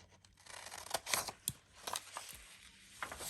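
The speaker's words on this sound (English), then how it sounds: "we're gonna cut that off" Scissors snipping through paper for a junk journal pocket tucker made from 12x12 paper, a quick irregular run of close, crisp cuts and rustles, quiet overall, with no voices.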